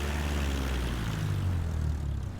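A Cessna 172 light aircraft's propeller engine, a close, steady, loud low drone with a rough pulsing throb that holds through a short span with no speech.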